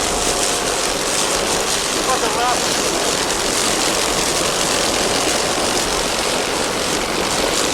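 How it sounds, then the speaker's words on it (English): The offshore racing boat Extractor roars along with its twin 750 hp MRD Industries inboard engines and Mercruiser drives, a loud, continuous engine drone mixed with rushing water and wind at the Key West offshore racing championships. "Extractor powered by two 750 horsepower MRD industry inboards with Mercruiser drives"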